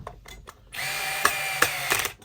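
A Bosch Go Gen3 electric screwdriver on its third torque setting drives a screw into softwood without a pilot hole, a short whirring burst with a couple of clicks, close and clear.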